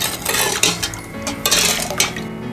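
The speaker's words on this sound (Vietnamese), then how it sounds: "Cho nước vào rồi khuấy tan cho đường tan đều." A utensil clinks and scrapes repeatedly against a pot while sugar is stirred into boiling water to make syrup for mooncakes, in quick irregular bursts heard close up.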